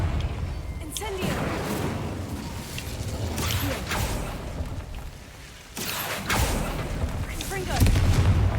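Incendio fire spells flare repeatedly in Hogwarts Legacy, several booming whooshes and bursts of flame spaced a couple of seconds apart, loud and close amid rumbling game sounds.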